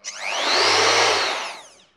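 A Festool ROTEX 90 random orbital sander motor whirs up briefly, then brakes smoothly to a stop within about two seconds, loud and close.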